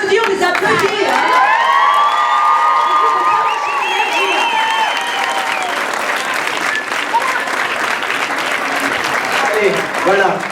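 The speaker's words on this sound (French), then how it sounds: "On les applaudit, on les applaudit." Crowd at an outdoor Carnation Revolution celebration in Romainville applauds and cheers loudly, with whoops and children's shouts mixing into steady clapping while a voice rings out over the noise early on.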